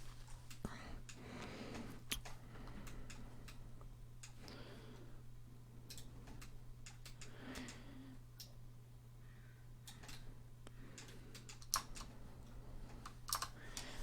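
Computer keys are pressed in a Blender sculpting session, with scattered light clicks and taps in an irregular rhythm, close and quiet over a steady low hum and faint background voice.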